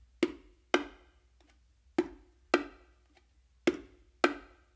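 Six crisp hand strikes on bongos, played with palm, thumb and slap on the macho drum in a martillo pattern, land in a steady paced rhythm, each short and dry, close with no talk.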